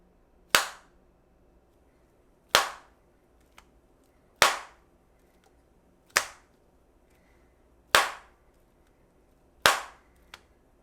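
Galaxy Z Flip5 foldable phone, heated and then chilled with an ice pack, snapping shut again and again: six sharp, close clacks roughly every two seconds, with near silence between them and a faint tick after the last one.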